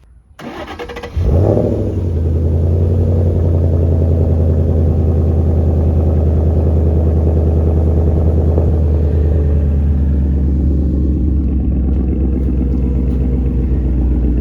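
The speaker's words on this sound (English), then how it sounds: "I'm gonna give you guys a little cold start so you guys can hear this thing." A Ford Mustang engine cranks and catches on a cold start, then settles into a loud, steady, deep idle that rumbles on without pause.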